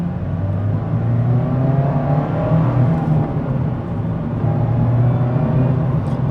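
A 2025 Mazda MX-5 Miata sports car engine roars steadily as it accelerates in second gear, a sustained throaty hum that rises slightly in pitch, close and loud with no talking.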